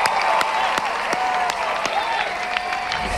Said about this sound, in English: A round of applause for having a go